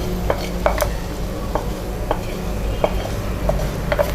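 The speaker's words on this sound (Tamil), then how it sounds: "கொட்டிட்டு நல்லா கலக்கி விட்டுக்கோங்க." Pearl millet paniyaram batter being stirred in a bowl after hot tempering is poured in, with soft spoon scrapes and a few light clinks repeating steadily over a low background hum.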